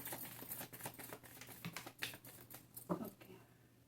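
Tarot cards shuffled by hand during a reading, a quiet, rapid patter of soft card flicks and riffles running through the whole stretch, close and alone with no talk.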